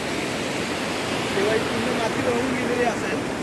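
Strong water flow at Gadeshwar dam near Panvel makes a steady, loud broadband rush that fills the whole stretch without letup, with a slight swell in the second half and faint tonal traces over it.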